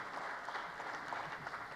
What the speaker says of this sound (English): you could applaud, not for me, but for the causes and the reason